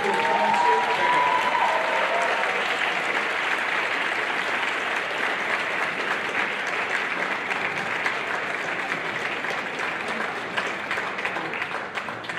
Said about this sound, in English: applause for all the guys who are concert.